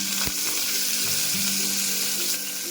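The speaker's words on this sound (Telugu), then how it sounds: "ఉల్లిపాయ కట్ చేసుకొని ఇందులో వేసుకోవాలి." Chopped onion fries in oil with a bright, steady sizzle close by, marked by a sharp clink early on and light stirring scrapes, with no one speaking.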